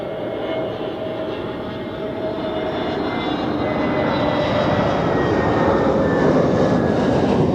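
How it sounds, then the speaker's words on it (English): An Airbus A320neo jet from Istanbul at Zurich Airport, its engine roar steady and broadband with faint tonal whines, growing slightly louder as it approaches. "A320neo from Istanbul as well"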